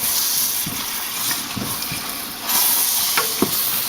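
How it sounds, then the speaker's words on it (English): Vegetables and onions stirred into a roux in a gumbo pot over a raised flame, giving a steady loud sizzling hiss with faint scraping and spoon knocks throughout. "let's stir all that up, mix it in with that roux"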